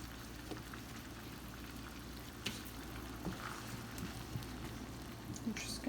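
Rice boiling in a pot on the stove, a low steady bubbling and simmering hiss with occasional soft pops, fairly faint and continuous with no talking.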